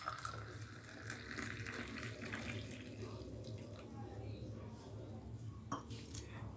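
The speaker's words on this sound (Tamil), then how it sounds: "மசாலா டீ கொதிச்சு இறக்குன உடனே ஒரு 5 நிமிஷம் கழித்து வந்து நல்லா ஆற்றி இந்த மாதிரி வச்சுக்கோங்க" Masala tea being poured back and forth between vessels to cool it, a steady liquid splashing and trickling with faint clinks of metal cups over a constant low kitchen hum.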